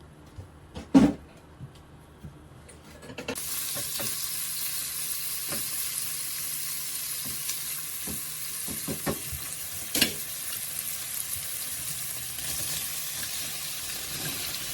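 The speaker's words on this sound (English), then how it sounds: "First, we stir fry the pork." Pork stir-fries in a pot for Japanese tonjiru pork soup. A couple of light knocks come first, then a steady, close sizzle and hiss starts and runs continuously, with occasional faint clinks of stirring.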